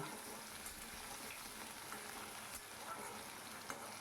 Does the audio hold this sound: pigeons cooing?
no